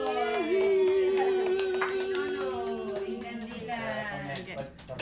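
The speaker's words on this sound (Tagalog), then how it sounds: "Palakpak mo." People clap at a birthday party, with quick, close hand claps mixed under a sustained voice and lively room chatter.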